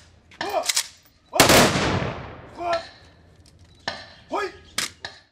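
A memorial salute rifle shot for fallen soldiers on Victory Day in Batken cracks loud and close, then rolls away in a fading echo, while voices speak before and after.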